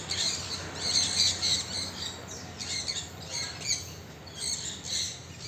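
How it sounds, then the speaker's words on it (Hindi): A large parrot in a bird park gives repeated harsh squawks in bursts, moderately close, over a steady background hum with no talking. "ऊपर बैठा है तोता बहुत बड़ा है।"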